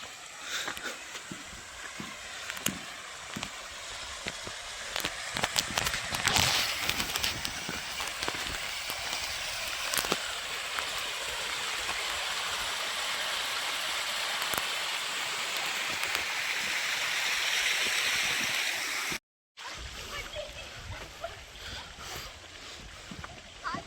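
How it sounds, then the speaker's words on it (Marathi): Rushing water from a stream and waterfall on a trek, a steady broad wash of flowing sound that runs with little change, with occasional knocks and a short cutout near the end. "आपल्याला एक सुंदर असा पाण्याचा झरा दिसलाय"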